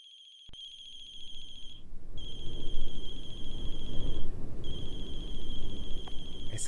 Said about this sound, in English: It's her cell phone.